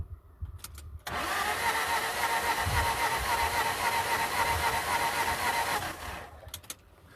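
A broken-down vehicle's engine cranks over for about five seconds, a loud, steady, rapid churning that starts abruptly and stops without catching, with quiet knocks before and after.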